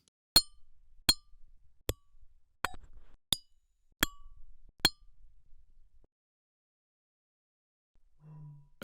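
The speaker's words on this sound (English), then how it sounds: "Glass bottles." Glass bottles clinking in a run of about seven sharp, bright taps at irregular intervals, close and clean, then a pause before a faint soft tone near the end.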